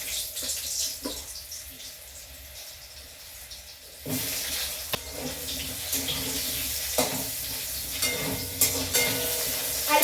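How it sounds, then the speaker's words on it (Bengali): Potatoes frying in a wok, a soft hiss that swells into a louder, steady sizzle about midway, broken by occasional stirring clatters. "এখানে যে আলুগুলো আছে আলুগুলোকে একটু ভেজে নেব"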